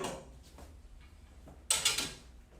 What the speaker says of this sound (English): I close my cast iron door that's going to retain the heat and the steam